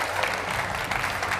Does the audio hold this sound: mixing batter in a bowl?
no